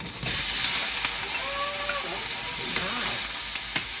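Garlic, onion, tomato, sweet pepper and thyme fry in a pan with a steady, close sizzle, joined by a few clinks and scrapes of stirring.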